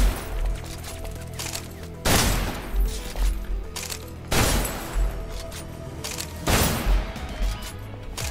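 Gunfire and blasts in the shooter video game Snowbreak Containment Zone: three loud, broad impacts about two seconds apart, with smaller bursts in between and a steady game din underneath, no talk.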